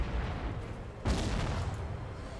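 A distant battlefield in the video game Total War: Warhammer produces low rumbling artillery fire, with one sharper boom standing out midway against a constant muffled din.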